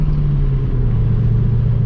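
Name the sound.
Chevrolet Camaro SS engine while driving and shifting gears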